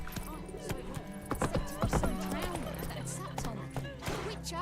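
Roach, a horse in The Witcher 3, clip-clops along at a steady trot, close by and clearly audible, with a whinny and game dialogue layered over the hoofbeats.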